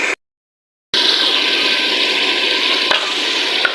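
Chopped tomatoes and green chilies sizzle and fry in a hot pan for a dhaba-style aloo palak, a steady close crackle that starts abruptly after a brief silence and carries on with faint stirring clicks.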